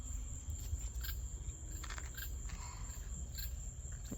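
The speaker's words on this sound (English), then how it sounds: "That's a cicada." Outdoors, an insect keeps up a high, steady, thin drone through a cicada's call, with faint background noise and a few soft chirps.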